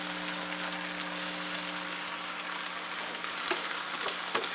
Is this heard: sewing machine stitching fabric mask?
no